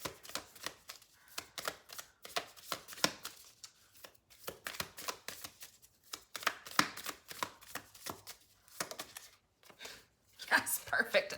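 Oracle cards being shuffled by hand, rapid papery riffles and slaps in repeated bursts throughout, close and fairly quiet, with a voice speaking over parts of it.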